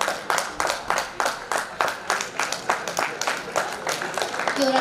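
Audience members at a felicitation ceremony during a college silver jubilee sports event clap in a rhythmic, fairly close stream of repeated claps, with some voices mixed in.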